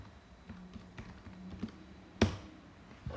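Quiet, scattered keystrokes on a computer keyboard, a few soft taps spread out irregularly, then one sharper, louder clack near the end, with no talking.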